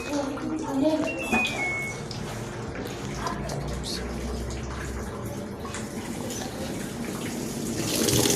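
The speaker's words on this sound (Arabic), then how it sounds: "ونقوم شغالين على اقل مستوى ميه" A Union Air top-load washing machine filling with water at its lowest water-level setting, a running-tap gush and splash that swells near the end while someone talks over it.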